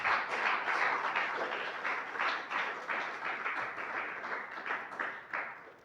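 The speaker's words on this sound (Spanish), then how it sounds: "Denle un aplauso al Señor," A church congregation applauds, many hands clapping in a lively, slightly pulsing rhythm that stays fairly loud before tapering off near the end.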